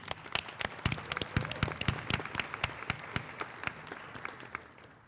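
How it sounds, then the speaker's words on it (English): An audience at a school event applauds loudly and continuously, many distinct hand claps cracking through a dense crowd clapping that tapers slightly toward the end. "Round of applause, please."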